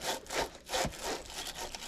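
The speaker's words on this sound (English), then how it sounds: "I also use sandpaper to clean this up." Sandpaper rubs back and forth over a pipe during a water hammer repair, giving a few rough scratchy strokes, close and fairly loud.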